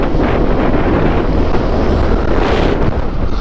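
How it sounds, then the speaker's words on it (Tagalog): Strong mountain wind roars steadily and loudly across a hilltop windmill farm in Pililia, Tanay, Rizal, buffeting the microphone in a constant, unbroken rush with no voices. "Malakas yung hangin pala dito part kasi nga bulubundukin na siya."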